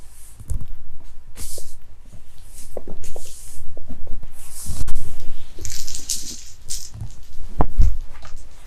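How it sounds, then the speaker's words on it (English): Tarot cards are dropped, slapping and scattering in a jumble of soft crinkly, rustling knocks close by, with handling noise continuing throughout. "I dropped some cards."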